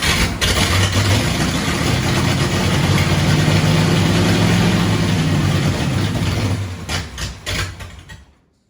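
Engine of a 1934 five-window car running, a loud, rough low idle heard up close, then faltering into uneven sputters before cutting out.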